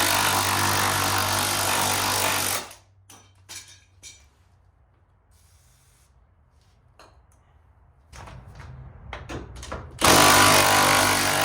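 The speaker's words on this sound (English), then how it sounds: "I ended up just cutting the bolt." A power cutting tool whines loudly through a seized, rusted bolt on a Jeep Cherokee XJ rear leaf spring, stopping for a quiet stretch of clanks and scrapes before the grinding whine resumes.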